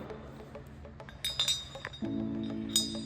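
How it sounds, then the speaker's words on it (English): Metal parts clink lightly as a collar is fitted onto the drive shaft rotor of a Bornemann SLH-5G pump. Several small, close taps and clinks are heard over quiet shop background. "you take your drive shaft rotor and install the collar in here"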